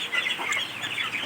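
Chickens cluck softly and continuously while they wait to be fed paddy, a brief close murmur of overlapping calls with no talk.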